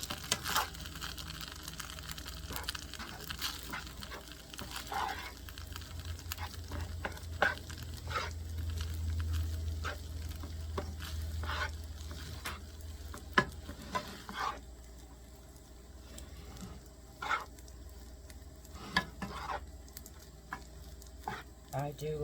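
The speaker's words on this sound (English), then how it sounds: "we're going to stir that up and see how that goes" Rice being stirred in a sizzling frying pan makes soft, steady frying hiss broken by repeated scraping and tapping strokes of the utensil, fairly quiet and close, with no talk.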